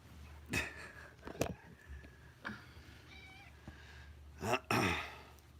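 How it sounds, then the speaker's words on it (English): A cat on a farm meows several times in short, close calls with quiet gaps between them, ending in two louder, drawn-out meows. "This kitty says hey."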